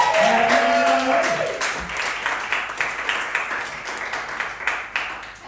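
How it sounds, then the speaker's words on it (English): A live comedy audience at a fringe festival show breaks into sustained applause, steady clapping from a crowd that tapers gradually, with a voice speaking briefly over the start. "please give Sylvia a round of applause."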